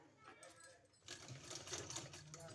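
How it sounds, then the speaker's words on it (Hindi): A sewing machine stitches a decorative sleeve design, its quick mechanical whirring steady and close through the second half, with someone talking in Hindi over it. "इस तरह से हमने सिलाई लगा लिया है।"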